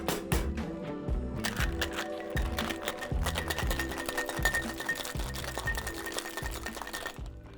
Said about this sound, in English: Now it's time to add some ice and give the drink a good shake.